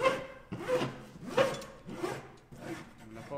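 A file is drawn at 45 degrees along the outer edge of a door in about five even, close rasping strokes, each a rough scrape rising and fading in a regular rhythm.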